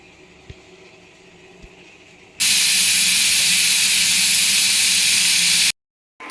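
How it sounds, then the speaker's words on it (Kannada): A mixer grinder runs loud and steady for about three seconds, grinding coconut with cardamom and cloves, a dense whirring roar that cuts off abruptly after faint background noise. "ಬನ್ನಿ ಇವಾಗ ಮಿಕ್ಸಿ ಮಾಡೋಣ"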